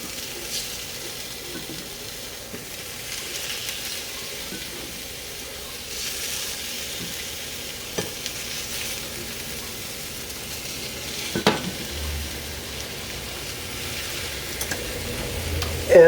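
Tomatoes frying in a pan on a stovetop give a steady, moderate sizzle that continues throughout, with a few soft clinks and scrapes along the way.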